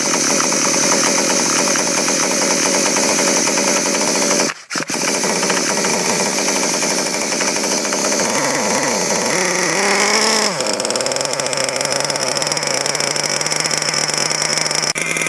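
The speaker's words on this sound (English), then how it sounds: "it's got a really nice idle to it, and it's running very good" Losi LST XXL 2 1/8-scale gas monster truck engine idling during break-in, a loud, steady buzzing two-stroke drone with one brief cutout, then a slight shift in pitch, continuous throughout.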